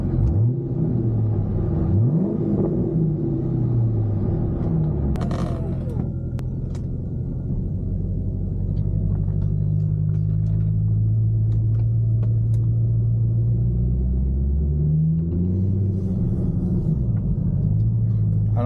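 A 400-horsepower Corvette on a night drive, its engine a steady low rumble heard from inside the car, rising and falling with gear changes and revs throughout, with a brief clatter partway through.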